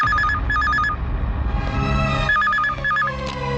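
A telephone rings in repeated electronic trills, short bursts with pauses between them, over a low background hum.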